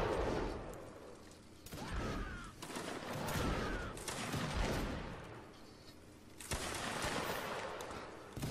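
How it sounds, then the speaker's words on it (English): A competitive team match in a first-person shooter video game, full of constant rapid gunfire in quick bursts and volleys that overlap nonstop at moderate loudness. "Just constant shooting there."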